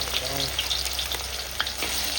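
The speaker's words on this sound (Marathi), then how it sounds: "आता अशाच पद्धतीनं हे सोयाबीन वडी पण या तेलामध्ये करून घ्यायचं" Soybean chunks fry in hot oil in a home kitchen, making a loud, continuous close-up sizzle and crackle. A few stirring scrapes come through, with no talk over it.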